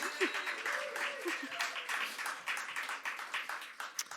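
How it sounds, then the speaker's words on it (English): Round of applause from a gender equality symposium audience, steady moderate clapping from a seated crowd, fairly quiet and close, with faint voices underneath. "Let's give Helen another round of applause, actually, on that."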